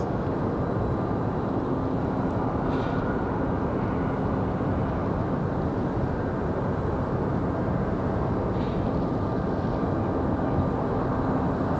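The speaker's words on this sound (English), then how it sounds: "this one coming in from Chicago. The A319" Steady, fairly loud engine rumble of an Airbus A319 airliner arriving at Raleigh-Durham airport from Chicago, a continuous broadband drone with a faint whine and no talk.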